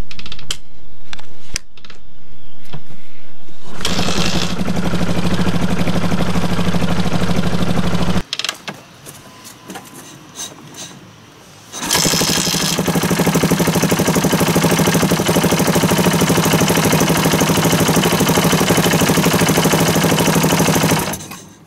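A KTM LC4 single-cylinder motorcycle engine is started by hand. A few sharp clattering attempts come first, then bursts of loud, close running and idling separated by a quieter gap.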